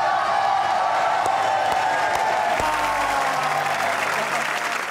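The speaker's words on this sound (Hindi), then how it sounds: "अपनी तालियों में खुश आमदीद कहिएगा जवाद अहमद और अली जरियून।" Studio audience of a comedy talk show breaks into loud, sustained applause with a few whoops, dense clapping filling the whole stretch close and full.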